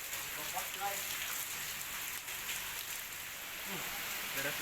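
Heavy rain pouring down in Banjarmasin during a storm with strong winds, a steady close hiss of drops on surfaces with faint voices beneath.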